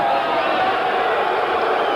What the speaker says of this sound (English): Boos coming up from the crowd at the Pacific Coliseum